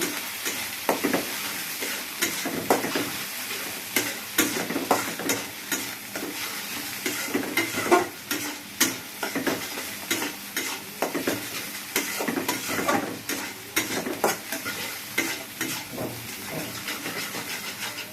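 Ginger paste and spices frying in a pan while being stirred, a soft continuous sizzle broken by repeated scraping strokes of a spatula at an uneven rhythm, close and alone.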